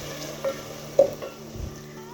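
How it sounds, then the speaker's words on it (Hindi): Onions sizzle in hot oil in a home kitchen as a tempering for rice, a soft steady fry with a few faint stirring clicks and scrapes, close and quiet. "उसके लिए मैं तिड़का रही हूँ, प्याज रखती हूँ"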